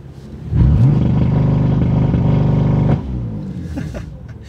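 A BMW M4 using launch control: the engine holds a loud, steady high-revving drone for about two seconds, then drops abruptly to a lower, rougher burble as it pulls away.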